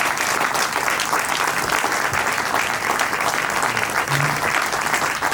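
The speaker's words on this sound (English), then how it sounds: "we probably want to hear the biggest round of applause of the day so far" Warm round of applause from a conference audience at a CIPS awards event, dense continuous clapping at steady volume from start to finish.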